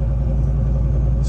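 Steady, loud engine rumble and road drone fill the interior of a moving city bus in Auckland, New Zealand, a constant low hum with no breaks and no talking.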